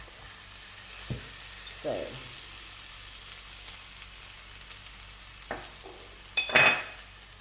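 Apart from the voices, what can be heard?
stirring garlic and tomato paste in pan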